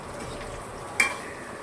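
Soya chunks fry in hot oil with a steady, close sizzle, broken once by a brief sharp clink of a utensil against the pan.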